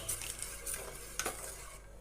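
Homemade tomato soap base with red colour being stirred in a container, giving a soft scraping swirl with a couple of faint clinks, quiet and close, with no talking.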